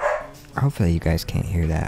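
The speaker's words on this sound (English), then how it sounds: "that's my dog barking in the background." A dog barks in the background during a sunny day indoors, several short close-together barks and yips under a voice as he talks over them.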